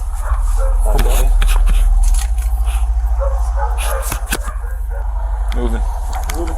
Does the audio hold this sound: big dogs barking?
yes